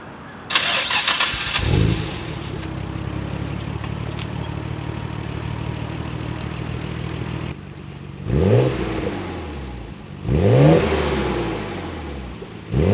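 Nissan Skyline GT-R R32 on its stock exhaust cranks and fires up, settles into a steady idle, then gives two sharp, loud revs near the end with no talking.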